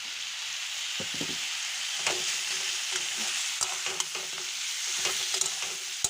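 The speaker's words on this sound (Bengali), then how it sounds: "আমি এটা ভালো করে এখন ভেজে নেব" Chicken masala with chili powder, cumin, turmeric and ginger garlic paste sizzles steadily in a pan, broken by scattered scrapes and taps of a spatula stirring the mixture; close and moderately quiet, with no speech.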